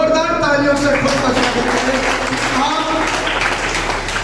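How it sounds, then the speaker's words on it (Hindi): Loud, dense applause from an audience at a college event in Haryana rolls on steadily beneath a speaker's amplified voice. "एक बार जोरदार तालियों से"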